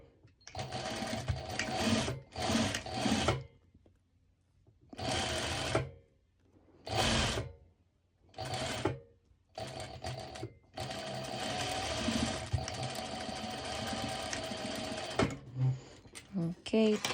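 Sewing machine running straight stitches along a folded swimsuit hem, a bandeau one-piece, in loud bursts of steady whirring separated by short pauses, with one long continuous run near the end.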